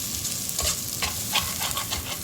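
Ingredients for chicken biryani sauté in a pan, a continuous close sizzle with intermittent scraping strokes of a spatula stirring the mix.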